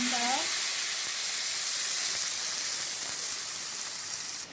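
Blended sambal with pandan leaf and curry leaf hits a hot pan and sizzles loudly and steadily, a continuous hissing fry that cuts off abruptly at the end.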